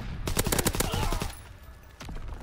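A Sten submachine gun fires in Call of Duty WW2, giving one loud, rapid burst of close shots that stops abruptly and is followed by a single fainter report.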